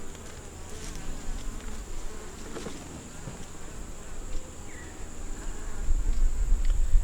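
Honeybees buzzing steadily around an open hive during an inspection, a dense continuous drone close by with individual bees passing, no talk.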